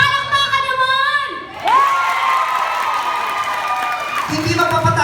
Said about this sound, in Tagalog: Pag tinaas ko po ang kamay ko, papalakpak po na may kasamang sigawan.